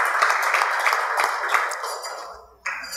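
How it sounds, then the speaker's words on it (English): An audience at a Caribbean tourism industry gathering claps in a dense wash that holds steady, then fades and cuts off near the end, leaving a quiet tail. "if you could give her a round of applause"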